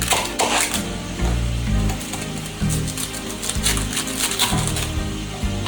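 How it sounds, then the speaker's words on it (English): Onions and mushrooms sautéing in a pan for beef bourguignon, a close, moderate sizzle with intermittent crackles and the knock of a utensil against the pan, no talk. "I do need to saute the onions and the mushrooms"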